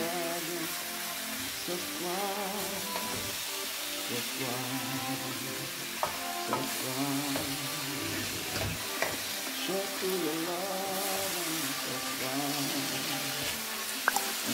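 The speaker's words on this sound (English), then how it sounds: "I will just leave it to cook for 10 minutes, but I will be stirring it every 1 minute" Bolognese ragu of beef mince simmering in a pan, giving a steady close sizzle with occasional scrapes and taps of a spoon as it is stirred, under music-like tonal sounds throughout.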